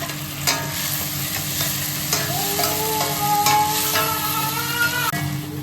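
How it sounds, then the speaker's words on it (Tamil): Onions sauté in a pan, sizzling steadily up close while a utensil stirs and scrapes through them. "வெங்காயம் கொஞ்சம் நல்லா வதங்கி வந்துருச்சு"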